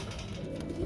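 Racing pigeons in a loft, a flock of mostly blue bars, giving low soft cooing under a steady dense bed of loft noise, close and fairly quiet, with no talking.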